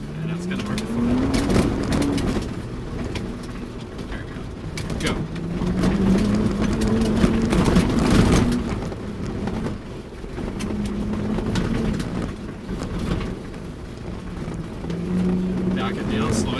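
A Ford Bronco Raptor engine pulls hard under steady wind buffeting, its note climbing and then dropping back at each paddle upshift, in several repeated cycles close to the microphone.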